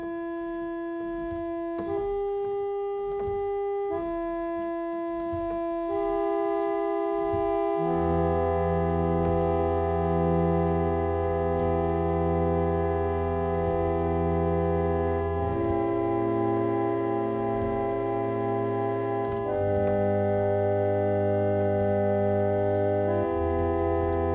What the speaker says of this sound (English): This is a harmonium that I've recently acquired.